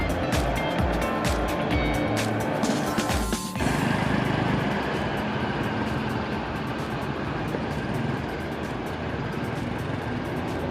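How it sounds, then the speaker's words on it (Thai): A diesel-electric locomotive engine runs loudly with a rough, rhythmic throb, then shifts to a denser, steady roar part way through as it is revved for a test after washing. "เร่งเครื่องครับเร่งเครื่องทดสอบ"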